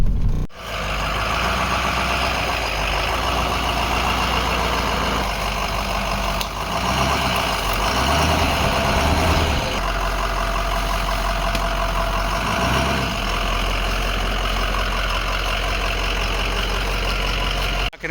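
A truck engine idles and runs steadily up close, a constant low rumble with a slight knocking texture and small dips in level, alone without talk.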